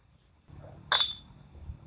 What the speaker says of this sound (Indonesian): Banyak banget berisik beling-beling kaca-kaca.